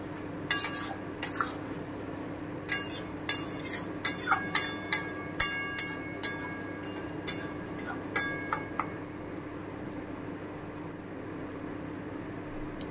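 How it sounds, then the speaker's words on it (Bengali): Metal spatula scraping and clinking against a kadai while stirring mourala fish as the liquid cooks down, a run of sharp, evenly spaced knocks that fades out toward the end over a steady background hum. "আমি আবারও একটু নেড়ে দিচ্ছি, জলটা আস্তে আস্তে শুকিয়ে আসছে।"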